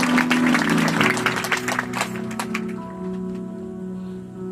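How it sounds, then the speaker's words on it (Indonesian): A church congregation applauds during a sermon, a dense patter of many hands clapping that fades out after a few seconds, leaving a soft sustained organ-like tone behind. "Kasih tepuk tangan untuk Tuhan kita yang luar biasa."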